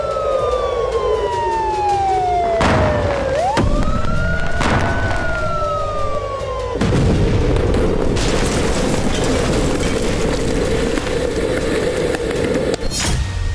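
A loud wailing siren sweeps up and down, joined by deep booms and rumbling blasts, with a steady noisy roar continuing after.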